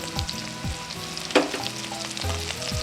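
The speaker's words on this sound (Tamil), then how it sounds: "இந்த அளவுக்கு வெண்டைக்காய் இதில் போட்டு கொஞ்சம் வதக்கிங்க." Chopped okra sizzles and sautés in a pan for a Tamil buttermilk kuzhambu, a close, steady frying crackle with a few scraping stirs of a spoon against the pan and one sharper clatter partway through.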